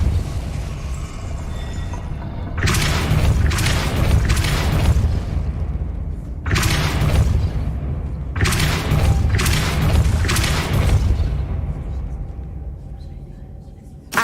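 Depulso spell impacts in the video game Hogwarts Legacy land as three loud, deep booming blasts, each a heavy thud with a roaring tail lasting a couple of seconds, separated by quieter ambient stretches.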